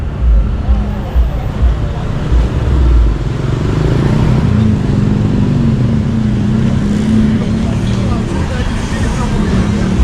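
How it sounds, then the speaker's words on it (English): Street traffic in Kata Beach, Phuket, Thailand, with cars and motorcycles passing close by in a steady loud rumble of engines, mixed with background chatter from people nearby. "Here's some of the traffic scene on my way north."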